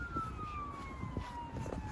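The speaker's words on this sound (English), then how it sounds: "And there's a siren in the background." A distant emergency siren drifts in outdoors, its thin tone slowly gliding downward and faint beneath low rumbling and scattered nearby thumps.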